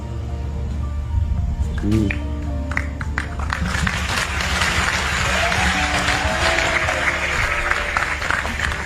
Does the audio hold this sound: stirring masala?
no